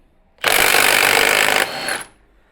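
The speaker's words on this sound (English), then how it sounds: "Hold on to the variator and rattle it off" A nut is rattled off the variator of a Royal Alloy GP350 scooter with a power tool, one loud continuous burst of about a second and a half that drops briefly in pitch before cutting off, with no talk.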